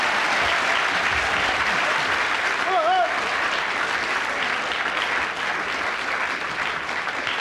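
A studio audience at a radio panel game applauds a contestant, a sustained even wash of clapping that holds steady throughout, with a brief voice or whistle near the middle.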